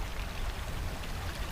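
Flowing water of Big Hill Springs on a frosty, cold day, a steady close rushing and splashing stream with no other sounds.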